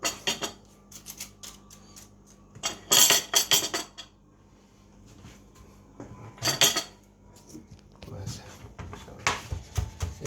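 A kitchen knife chops fresh parsley on a board in uneven bursts of quick, crisp taps, with clusters of strokes separated by short pauses.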